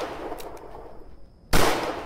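Gunfire in the co-op shooter Sunset Rangers: a couple of faint early cracks, then one loud, sudden burst of shots near the end, with no voices.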